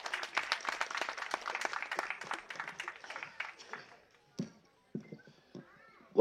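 Applause from the audience at a Tamil film press event for the lead actor, a spirited burst of scattered clapping that thins out into a few isolated claps and faint sounds.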